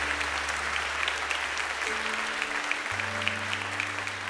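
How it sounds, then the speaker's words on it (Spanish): Church congregation in Panama applauding during a worship service, a continuous wash of clapping over sustained low keyboard or organ tones that shift pitch partway through. "Dele un aplauso"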